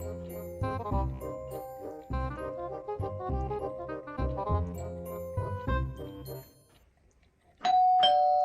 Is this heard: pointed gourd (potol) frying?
no